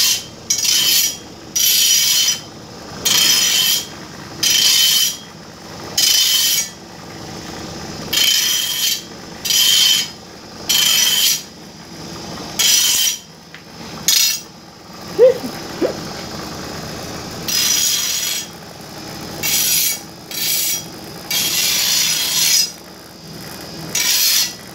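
Repeated rasping strokes of a knife blade against a spinning homemade grinder, in regular bursts about a second long with short pauses between, close and fairly loud over a low motor hum.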